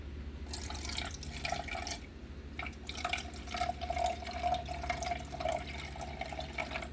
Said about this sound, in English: we're going to want half a cup of vinegar, and we're going to pour that into the pot as well